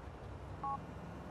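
Short double-tone beep from a flip phone dialing in Grand Theft Auto IV, a single brief electronic tone burst over low background game ambience.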